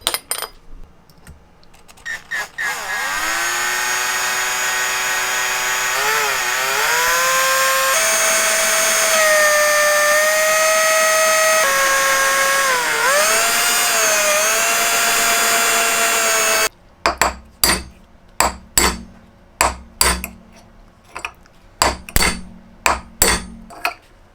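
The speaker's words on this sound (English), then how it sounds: "I'm going to try drilling that out because I think there's a punch mark holding in this pin." A drill whines at length through metal, drilling out a pin in a Hardinge Cataract lathe headstock, its pitch dipping under load, then stops, followed by a series of sharp metallic taps and knocks.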